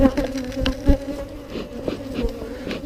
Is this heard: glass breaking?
no